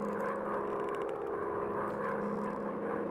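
Droning engines of World War I bomber aircraft in a warplane video game, a steady continuous propeller hum with a low buzzing tone, fairly loud and unbroken throughout with no talk.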